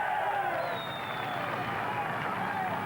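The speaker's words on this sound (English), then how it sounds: "Just listen to that crowd." Roadside crowd cheering a Tour de France stage winner arriving in Marseille on the 1993 Isola 2000–Marseille stage, a dense, loud, continuous roar with a commentator talking over it throughout.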